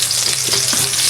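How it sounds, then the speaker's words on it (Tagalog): Onions sautéing in a hot pan, a loud dense sizzle up close with scraping stirs of a utensil. "So gigisahin natin yung sibuyas"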